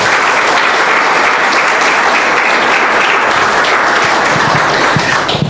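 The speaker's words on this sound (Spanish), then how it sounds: "Dale un aplauso al Señor, por favor." A church congregation applauds during a service, steady dense clapping filling the space at full strength throughout and easing only slightly at the very end.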